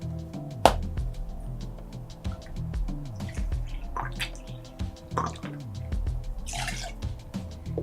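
An ounce of lime juice poured for a Kamikaze cocktail, with soft dripping and trickling liquid alongside light clinks and handling noises, fairly close and quiet.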